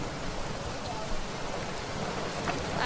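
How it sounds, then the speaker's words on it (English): Heavy rain in a Roblox game, a loud, continuous wash of dense hissing that stays constant throughout and would bury a voice, with nobody speaking. "I literally can't hear myself under this rain."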